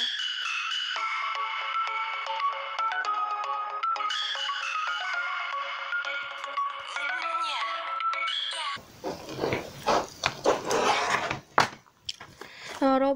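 A melodic phone ringtone chimes repeatedly for several seconds, then cuts off, followed by close rustling and handling noises.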